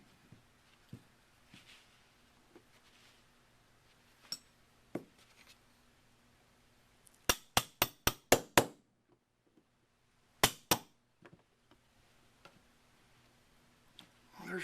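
Sharp metallic taps of a drift punch driving the trigger pivot pin out of a Winchester Model 88 .308 rifle: a quick burst of about six close hammer strikes, a pause, then two more, with faint handling clicks around them.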